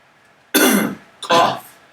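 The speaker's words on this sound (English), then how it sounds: "I don't know how to clear my throat" Two short, forceful bursts of throat clearing, the first longer and the second sharper, close to the mic against a quiet room.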